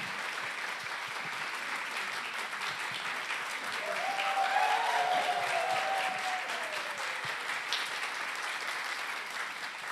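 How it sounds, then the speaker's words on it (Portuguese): Warm, sustained applause from a literary festival audience welcoming a guest onto the stage, a steady wash of many hands clapping throughout, swelling slightly in the middle, with a faint voice-like tone briefly audible beneath. "Então, recebamos com palmas bem calorosas."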